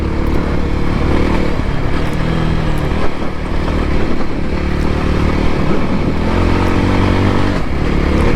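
A Voge 300 Rally motorcycle fitted with a 15-tooth front sprocket accelerates after an upshift, its engine droning loud and close with a rising pitch and steady wind rush.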